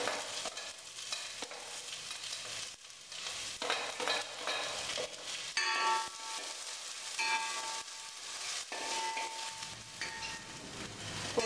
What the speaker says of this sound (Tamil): பீன்ஸையும் பட்டாணியும் முதல்ல போடுறேன்